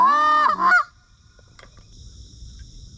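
Geese on a river give a loud, close honk cluster of several calls in the first second, then quiet background with faint distant activity.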